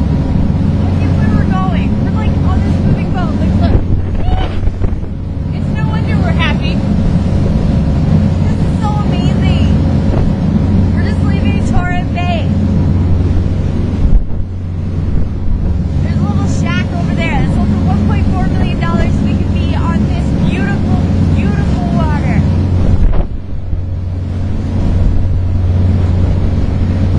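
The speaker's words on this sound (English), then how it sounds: "We're like on this moving boat." A continuous low tour boat engine drone with wind and water rush in Abel Tasman, New Zealand, steady throughout, while voices chatter faintly over it.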